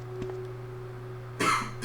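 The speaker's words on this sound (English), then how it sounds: "I believe in your cough." A single sharp cough bursts out near the microphone during a video game recording, preceded by a softer throat click, set against a faint steady electrical hum.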